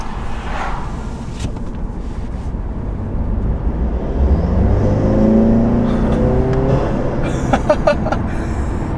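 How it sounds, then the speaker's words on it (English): An Audi A3 turbo engine fitted with an APR open intake revs up with a rising whir, then releases a brief hiss of blow-off as the throttle lifts. "Get a little blow-off sound,"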